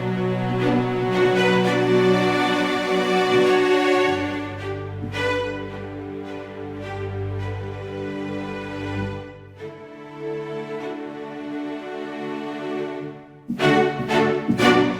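Orchestral strings from the Nucleus Lite library, played at varied velocity, move from biting, hard-played chords to smooth, soft sustained notes with a low bass swell, then a bright forceful flourish at the end, with no talking.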